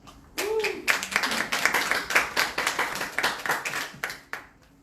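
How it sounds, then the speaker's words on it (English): A conference audience claps at a London cryptocurrency event, a moderate burst of overlapping hand claps with uneven rhythm lasting a few seconds, with a brief voice at the start. "Again, give them a round of applause."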